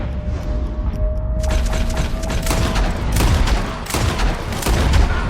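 Gunfire in the Red Dead Redemption 2 video game erupts as a loud, dense volley of overlapping shots and booms, after a brief lull with a faint tone.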